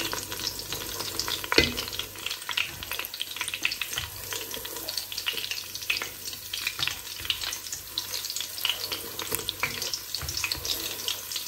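Thai fish cakes (tod mun pla) frying in hot oil over medium heat, a steady dense sizzle and crackle running throughout with occasional stirring clinks, close and moderately loud with no talking.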